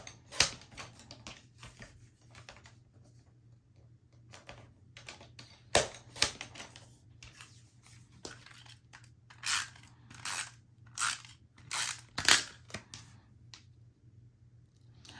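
Paper being cut into a small 2x2 piece for a mini album, heard as a scattering of sharp, close snips and clicks, sparse at first and then clustered, over a quiet background hum.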